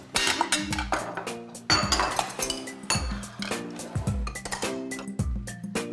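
Cutlery and dishes clink and clatter at a family meal table, with repeated sharp metallic and ceramic knocks coming in irregular bursts, fairly close and moderately loud, with no talk over them.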